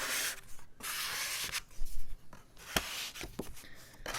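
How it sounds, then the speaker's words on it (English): Finnish lottery scratch-off tickets are scraped in close, crisp bursts of rough scratching, separated by short pauses and light taps. "at least you guys get to enjoy the nice ASMR scratching tingles"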